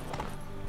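Horse hooves clip-clop steadily at close range in Witcher 3: Blood and Wine, a short stretch of even hoofbeats with no talk over them.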